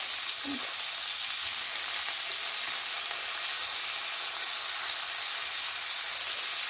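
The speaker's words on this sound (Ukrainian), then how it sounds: "Рибка вже обсмажилася і з другої сторони." Capelin fish fry in a pan over moderate heat, giving a steady, even sizzle and hiss throughout with no pauses.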